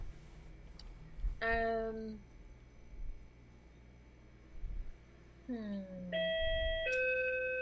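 A doorbell chimes twice, each a bright descending ding-dong ringing out clearly, with people chatting and laughing in the room around it.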